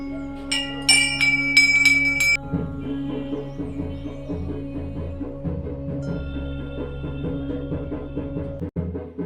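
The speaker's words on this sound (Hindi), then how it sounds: "इतनी घंटियां हैं कि आपका दिमाग चकरा जाएगा।" Bells ring at the Golu Devta temple, where countless bells hang, with bright metallic clangs in the first two seconds and then a sustained, humming resonance that slowly decays.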